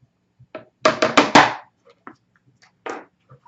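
An acrylic paint tube is banged on a table in a cluster of hard knocks, four rapid thumps in a row, preceded and followed by a few lighter isolated taps, close and dry.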